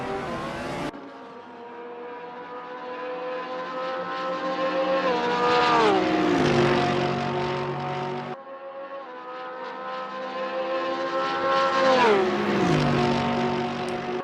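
A Porsche race car in a racing video game screams through corners at Mosport, its high-revving engine rising and falling through gear changes, with a brief cut near the start and another mid-run, loud and continuous with no talk.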